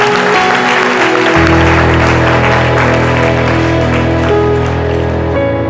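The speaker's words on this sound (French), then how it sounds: "Merci d'applaudir cela." An audience applauds in the studio of a French-language midday TV talk show, with dense, sustained clapping that stays loud and steady throughout.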